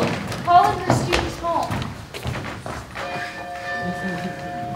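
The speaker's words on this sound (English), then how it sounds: "Once again, the college bells tolled, calling their students" College bells toll at a recreated brick college building, Anderson Hall, ringing in sustained tones among dull thuds, with voices audible through the sound.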